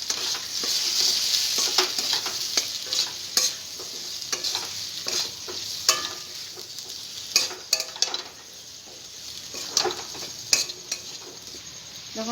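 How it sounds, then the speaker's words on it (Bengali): Fried potatoes stirred into a spice masala in a pan, with a constant close sizzle and frequent scraping, clattering spatula strokes against the metal throughout. "এর ভেজে রাখা আলুটা দিয়ে আমি একটু মশলার সঙ্গে কষে নেব"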